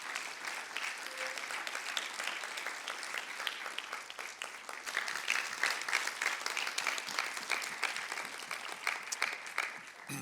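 A church congregation claps loudly and steadily during a service, a dense continuous patter of many hands, slightly building in the middle and carrying on to the end.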